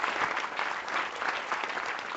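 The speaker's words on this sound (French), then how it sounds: "Je précise que ce sont de vrais applaudissements, que je n'ai pas rajouté ça à la production." A live theatre audience applauding, a dense and even burst of clapping from a full house that stays loud and sustained throughout, with no talk over it.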